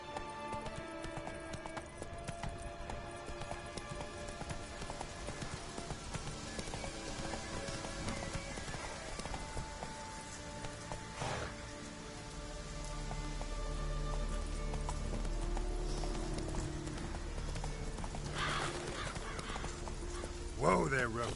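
Roach the horse gallops in The Witcher 3, a steady clip-clop of hooves with rain pattering and game voices speaking over it.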